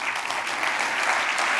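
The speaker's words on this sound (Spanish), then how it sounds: "els oients poden aplaudir, si us ve de gust, a la gent de la ràdio." A gala audience applauds the radio station staff at Radio Lleida's 90th anniversary celebration, with steady, dense clapping that holds even and full for the whole stretch, no voices on top.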